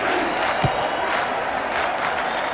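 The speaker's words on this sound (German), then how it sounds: "es gibt verdientermaßen Applaus" Football crowd at a Bayernliga Süd match between TSV Landsberg and 1. FC Sonthofen, a steady wash of stadium applause and cheering throughout, with one brief low thump partway through.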